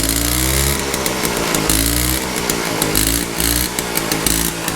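A rare Honda PA50 moped that had long sat unused runs close by with a loud, raspy buzzing engine note that rises and falls in pitch as the throttle varies.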